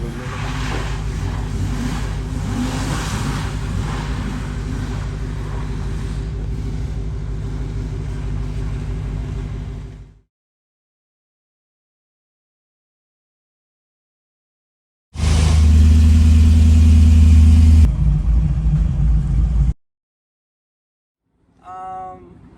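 Classic muscle car engines, a 1969 Camaro Z28, a 2016 Hellcat and a 1979 Z28, idle with a steady, deep rumble for ten seconds, then go silent before a louder, heavier burst of engine roar and a brief final blip.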